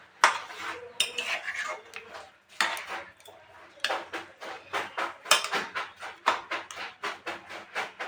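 Mutton curry stirred in a metal pot, a steady run of close scraping and clanking strokes of a spoon against the pot, with brief pauses between bursts.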